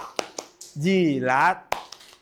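Hands clapping in a children's clapping game, a few sharp, close claps spaced around a short sung or spoken chant.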